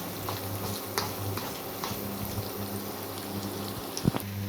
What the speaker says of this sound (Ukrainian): Цибулька тут е, підсмажується отак, у пів стакана олійки